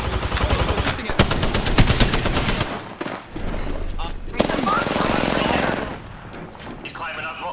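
Rapid automatic gunfire in the Apex Legends battle royale game, loud bursts of repeated shots in a fast rhythm, then a pause and further firing mixed with in-game effects, with voice lines over parts of the action.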